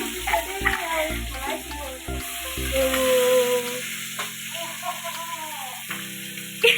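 Fish frying in hot oil, a steady sizzle that swells and crackles, with stirring and clattering sounds and a voice speaking briefly over the frying.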